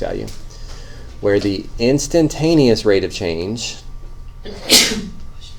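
A single sharp sneeze bursts out loudly near the end, after someone talks steadily about the rate of change in a calculus lesson.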